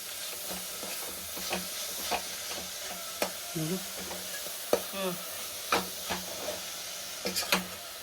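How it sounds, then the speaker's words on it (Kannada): Fresh fenugreek leaves fry in a pan for menthya bath, giving a steady moderate sizzle and hiss with repeated scraping taps of a spatula as they are stirred. "ಇದನ್ನ ಹಾಕಿ ಇವಾಗ ಚೆನ್ನಾಗಿ ಫ್ರೈ ಮಾಡಬೇಕು, ಫುಲ್ ಸುಂಡೋಗೋವರೆಗೂ."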